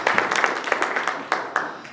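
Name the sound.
congregation applauding in church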